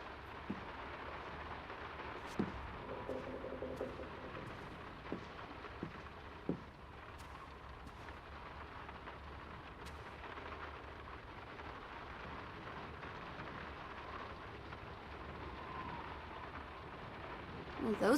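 Steady rain falls in the video game Draugen, a soft continuous hiss with scattered drips and a few sharp knocks, quiet and distant throughout.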